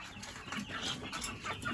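Chickens cluck softly in short, scattered bursts against a faint background hum, nearby but not loud.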